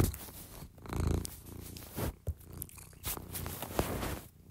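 A cat purrs steadily close to the microphone in a quiet indoor room, a soft continuous rumble with a few small bumps and rustles of movement.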